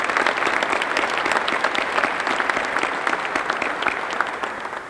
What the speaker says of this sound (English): if I could just have a brief round of applause for all of our distinguished guests.